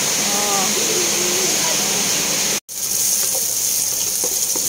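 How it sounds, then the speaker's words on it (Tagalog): Ginger sautés in a hot pan with a loud, continuous sizzling hiss that briefly cuts out before resuming. "Gisa-gisa pa tayo hanggang lumabas yung kanyang aroma"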